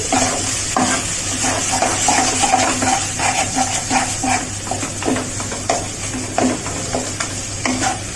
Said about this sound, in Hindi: एक 2 मिनट और भूनेंगे इसे।